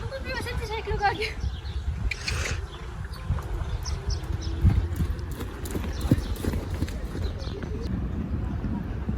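Pony hooves clip-clop steadily during a ride, in a regular trotting rhythm that continues throughout, with people talking over it and birds faintly in the background.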